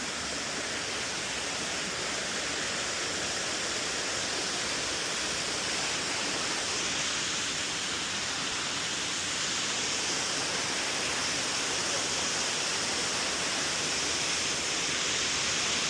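Water pours steadily down a waterfall at Rock Garden in Chandigarh, a dense, continuous rushing hiss that stays even and close throughout with no voices.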